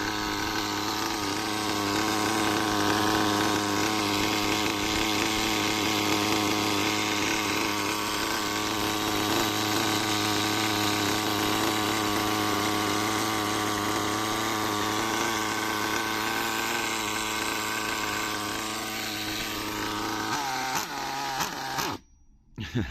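Old Hobao Pirate nitro RC car with its small glow engine running rich after long storage, a loud, steady buzzing drone that holds for about twenty seconds before sputtering and cutting out near the end.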